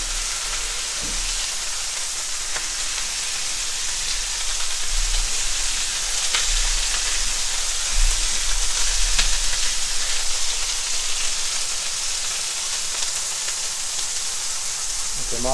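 Smash burger patties sizzle steadily on a Blackstone flat-top griddle, a dense continuous crackle that swells slightly midway, with faint clicks of a spatula and no talking.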